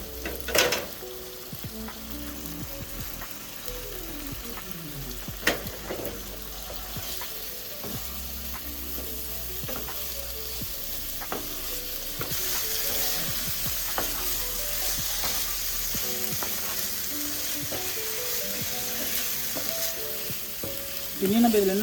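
Chicken liver fries in a pan with a loud, steady sizzle and crackle, stirred now and then with scraping clicks, the frying growing a little brighter and louder midway, with no talk over it.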